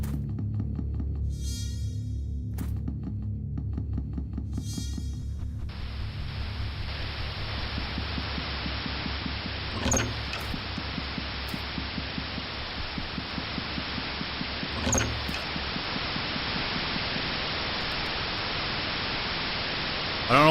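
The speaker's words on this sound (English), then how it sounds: "there's gonna be some white noise coming up" Harsh white-noise static from the horror game Fear & Hunger 2: Termina begins a few seconds in over a low game hum. After that it holds as a constant hiss, with brief clicks at intervals.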